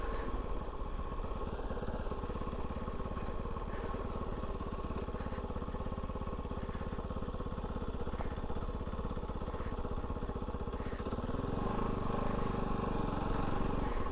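A Kove 450 Rally single-cylinder motorcycle riding slowly on a trail, a steady low engine thrum with a rapid pulsing beat, held at an even level with slight changes in pitch.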